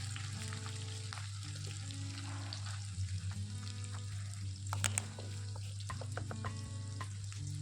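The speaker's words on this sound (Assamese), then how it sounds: "এতিয়া এইখিনি 3-4 মিনিটমানৰ কাৰণে এইদৰে লৰাই ভাজি থাকিম।" Onions with cloves, cardamom and cinnamon stirred in hot oil for a home-style chicken dry fry, giving a steady sizzle with scraping spoon strokes and a low constant hum underneath, no voices.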